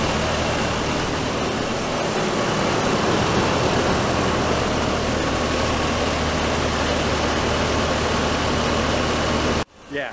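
A Toyota Land Cruiser engine runs steadily with the front driveline turning during an axle rebuild, a constant droning hum and whir that holds level and close for almost the whole stretch, then cuts off abruptly near the end.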